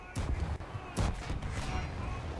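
The heavy main guns of the battleship Scharnhorst in War Thunder fire two deep booming salvos about a second apart, with rumbling low echo in between, loud and close.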